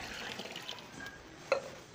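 Water is poured into a pot of cooked chicken for degi chicken biryani, a faint, short trickle with one brief clink near the end.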